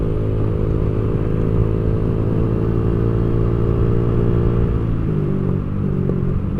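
A motorcycle engine revs hard and holds a loud, rough rumble during an attempted wheelie with the rear tyre slipping, close and continuous, dipping slightly near the end.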